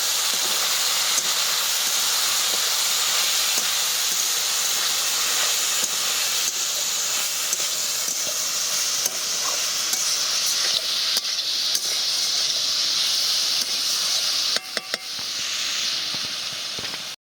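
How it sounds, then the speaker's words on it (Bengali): Potatoes frying in a pan with cumin and coriander powder and chilli powder give a steady, close hiss and sizzle that runs unbroken, easing slightly near the end. "এবার এটাকে খুব ভালো করে আগে ভেজে নেব।"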